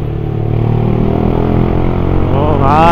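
Motorcycle engine droning loudly and steadily up close while riding a Hero bike through heavy road traffic, rising in pitch near the end as it accelerates.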